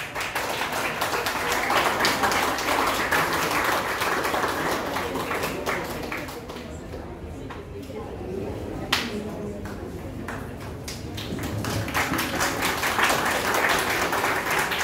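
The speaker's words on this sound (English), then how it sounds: "Please give them a big round of applause." A school audience at a foundation day celebration applauds prize winners being honored. The applause is long and continuous, dips briefly in the middle, then swells again, with a few sharper taps and background voices mixed in.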